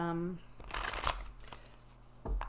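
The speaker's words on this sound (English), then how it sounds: "let's gonna give this just a couple more shuffles" Cards are riffled and shuffled close by in a few quick bursts, following a brief spoken voice.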